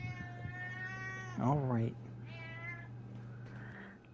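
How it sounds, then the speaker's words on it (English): A long-tail cat summoned in a video game gives a drawn-out meow, then a louder wavering yowl and a shorter meow, over a steady low hum, with a player speaking briefly. "We've summoned the long-tail cat."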